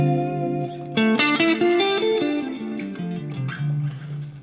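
Clean electric guitar played through a Line 6 Helix with two chorus effects in series, a shimmering chorused melody of sustained and descending notes with reverb tails, loud and alone.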